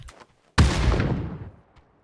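A single sharp, booming gunshot in the video game PlayerUnknown's Battlegrounds, with a long decaying tail, preceded by a few faint clicks.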